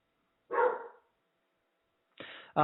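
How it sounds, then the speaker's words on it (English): Dogs bark indoors in three sharp bursts, one near the start and a quick pair near the end, loud and close with silence between them. "I don't know what my dogs are barking at"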